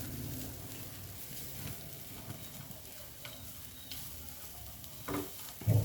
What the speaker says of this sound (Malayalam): ലോ ഫ്ലെയിം വെച്ചിട്ട് വേണം വറുത്തെടുക്കാൻ